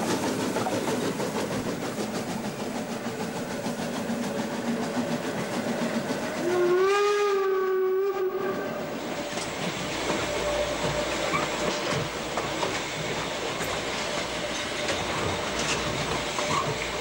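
A Harz narrow-gauge train rolls along on a snowy winter line and sounds one steady whistle blast lasting about two seconds, set against continuous rail rumble and clatter.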